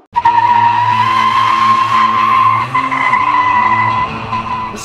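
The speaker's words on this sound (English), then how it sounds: "This is our Genovation GXE all-electric Corvette." Genovation GXE all-electric dual-motor Corvette with a 6-speed manual launching hard, a loud continuous tire squeal with a high electric whine, close and sustained for several seconds.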